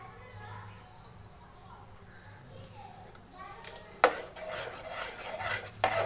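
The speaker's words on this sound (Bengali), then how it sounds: "এই সামান্য একটু জলের ভিতরে আমি হাফ চামচের মতো কর্নফ্লাওয়ার গুলে দিচ্ছি" A spoon stirs half a spoonful of cornflour into a little water in a small container, with brisk close clinking and scraping starting partway through, after a stretch of quiet room sound and a faint voice.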